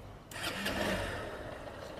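Electric self-starter cranks a 2023 Honda SP 160 motorcycle, a short whir that catches into a steady, close engine idle.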